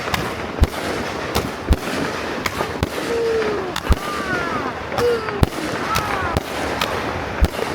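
Fireworks explode outdoors in a rapid series of sharp bangs and crackles, some with rising whistles, heard from inside a car amid steady background noise.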